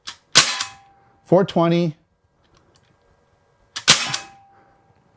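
A Sig Sauer MCX ASP .177 CO2 pellet rifle fires two sharp, close shots a few seconds apart, with a brief spoken number between them.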